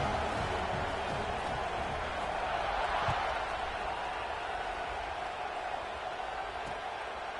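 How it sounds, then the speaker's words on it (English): Football stadium crowd buzzing after a score, a steady broad roar of many voices at even loudness throughout, with a commentator talking over it. "this crowd is buzzing after that last score"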